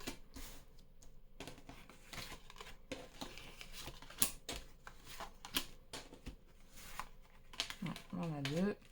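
Oracle cards being shuffled for a 15-card spread, with soft riffling and slapping bursts scattered through the clip and a voice talking intermittently over them.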